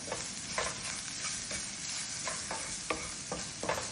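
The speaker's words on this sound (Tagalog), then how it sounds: "Mix ko lang siya." Molokhia gets stirred in a pan with parsley powder, giving a soft steady sizzle broken by a string of scraping stir strokes about every half second, quiet and close with no talking.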